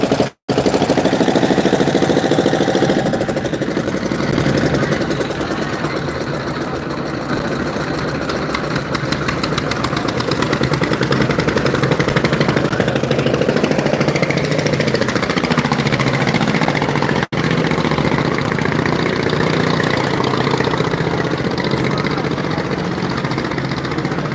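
A trawler boat's engine runs steadily and loudly near a Sadarghat launch terminal, carrying passengers out to catch a missed launch; the continuous mid-pitched rumble holds for the whole stretch with a faint knocking texture and no talk.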